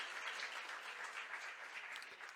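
A church congregation claps together in steady, dense applause, sounding somewhat distant and soft, with no talk over it.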